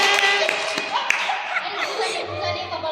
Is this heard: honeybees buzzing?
no